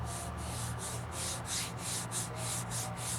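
Fingertips rub over a rough, rock-chipped painted panel on a 2014 Dio race-colors scooter, a close, dry scratchy hiss swept in repeated strokes, about ten rhythmic passes with no talking.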